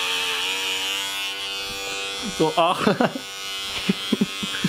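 An electric razor shaves off arm hair with a steady, loud buzzing drone that holds throughout, while someone speaks a few short words over it partway through.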